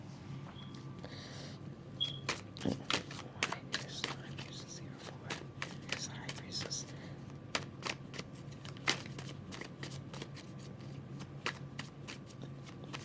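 Tarot cards are shuffled by hand close up, making a continuous soft riffle with frequent sharp card snaps throughout and quiet room tone underneath.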